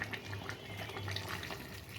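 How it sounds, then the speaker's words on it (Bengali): Hot water poured into a pan of browned meat curry with onion, ginger, garlic and garam masala, giving a steady close splashing, running-water sound for about two seconds with no talking. "এবারে আমি গরম জলটা দিয়ে দেব।"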